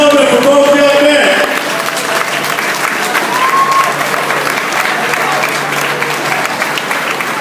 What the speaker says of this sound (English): Round of applause, ladies and gentlemen, for both young men.